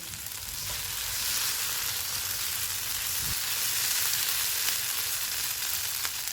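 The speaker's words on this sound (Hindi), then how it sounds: "तीन मिनट के बाद इसमें धनिया डालेंगे, इसको मिक्स करेंगे।" Chicken filling with coriander sizzling and frying in a pan while being stirred, a steady close hiss lasting throughout with a faint scrape now and then.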